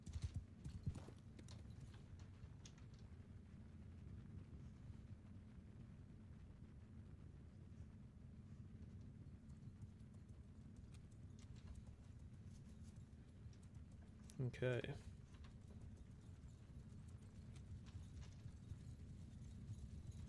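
Cavalry horses gallop across a medieval Mount & Blade battlefield, a continuous low rumble of many hooves with steady clip-clop texture, one brief louder whinny-like burst midway, and a single short spoken word.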